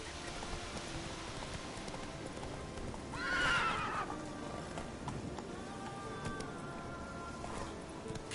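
Roach the horse in The Witcher 3 gallops with soft rhythmic hoofbeats over rain, then gives one loud, bright whinny in the middle before the steady clip-clop carries on.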